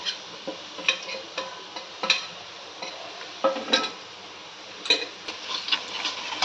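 A spoon scrapes and taps in a pan as Agri masala with hing, salt and coriander powder is stirred and sautéed for crab curry, irregular close metallic clinks over a faint sizzle.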